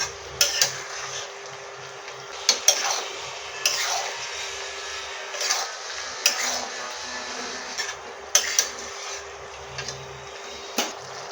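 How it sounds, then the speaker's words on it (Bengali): Fried mushrooms are sautéed in a spicy oily curry, with scattered spatula knocks and scrapes against the pan over a low sizzle, close and without talking. "ভেজে রাখা মাশরুমগুলো দিয়ে কিছুক্ষণ কষে নেব"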